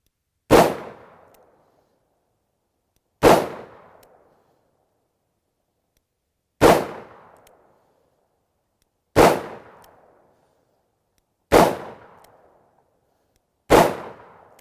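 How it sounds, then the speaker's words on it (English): A Smith & Wesson 629 .44 Magnum revolver with a 5-inch barrel fires six separate double-action shots, each a sharp loud crack with a short decaying tail, spaced roughly two to three seconds apart, with no voices. "This time I'll shoot it in double action and see how it handles that way."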